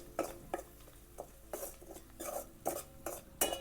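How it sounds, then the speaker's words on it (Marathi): Homemade masala with turmeric and salt is stirred in a pan, giving repeated close scrapes and clinks of a utensil against metal in an uneven rhythm, with only a faint sizzle beneath. "आता हे मसाला चांगला परतून घ्यायचा"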